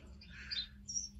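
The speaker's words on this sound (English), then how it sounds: "There's some birds chirping." Birds chirping outdoors, a few short high tweets rising above a steady low background hum, moderately faint and close by.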